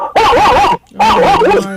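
A dog gives two loud, close, whining barks with a short gap between them, offered among puppies for sale on a radio market programme.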